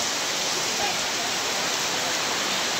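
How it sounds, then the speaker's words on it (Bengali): Dense, steady downpour of heavy rain, a constant loud hiss filling the whole clip with no pauses. "এইরকম বৃষ্টি আমার জীবনে আমি আর কোনোদিন দেখিনি।"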